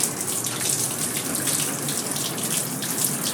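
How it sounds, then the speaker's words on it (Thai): Water runs from a tap in a Japanese hotel room at the Centurion Hotel Ueno, a steady close rushing flow with a bright hiss that stays even throughout. "เปิดตรงนี้ใช่ไหมฮึบโอ้น้ำไหลละ"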